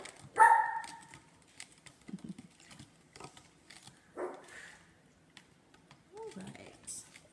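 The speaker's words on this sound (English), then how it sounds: "that's my puppy dog in the background making noise" A pet puppy barks and yips in the background of a home kitchen during bread-making, a few short bursts near the start with more scattered yelps later, mixed with clattering and a person talking.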